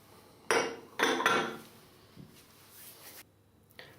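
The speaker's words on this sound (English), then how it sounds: "I've now cleared the lather from the bowl which had the soap" A shaving bowl being cleared of soap lather, with two sharp ceramic clinks and scrapes followed by fainter rubbing and a final small knock, close and quiet with no talking.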